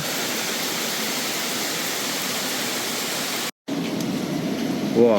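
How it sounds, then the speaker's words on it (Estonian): Heavy rain pours down in a dense, steady roar, interrupted by a brief moment of silence before the downpour continues. "Täitsa padukas hakkas."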